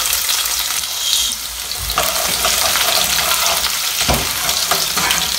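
Chopped garlic sizzles loudly in hot oil with mustard seeds, a continuous close frying hiss with occasional stirring scrapes and no talking.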